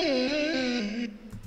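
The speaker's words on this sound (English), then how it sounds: "more of like a soft sort of vocal chop from Vocal Runs" Brief, soft vocal chop sample from Vocal Runs, a single sung note sliding gently downward and fading out after about a second.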